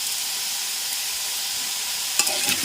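Ridge gourd being stirred in a pan with turmeric and salt, a steady soft sizzle throughout with a few scraping stirs near the end, close and moderately loud, no talking.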